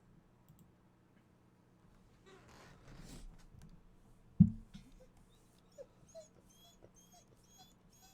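A puppy whimpers in soft, high-pitched bursts, faint and close, with an abrupt knock and a few light clicks in between.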